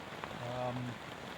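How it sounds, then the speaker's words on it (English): Rain drums steadily on a tent at a camp, a soft continuous patter with a faint low murmur briefly beneath it. "I can't change it now while it's raining"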